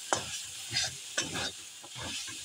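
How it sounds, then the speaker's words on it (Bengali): Mixed spices with onion, tomato, ginger and garlic stirred in a frying pan for palak paneer, bursts of scraping and stirring with a faint sizzle between them, close and quiet, no voices. "এবার মশলাগুলোকে আমি ভালো করে মিশিয়ে নেব।"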